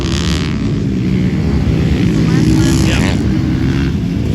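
Motocross bikes race around a dirt track, their engines droning and whining continuously at mid distance, with a short spoken word over the noise.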